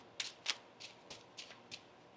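Several short, crisp riffles of a tarot deck being shuffled, about six quick bursts spaced irregularly, close and fairly quiet with no talking.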